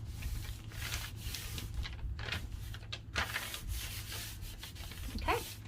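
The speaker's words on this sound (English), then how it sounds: "And we're going to glue it." Wrapping paper is glued down with continuous close rubbing and smoothing strokes, a dry papery scraping that pauses briefly in places.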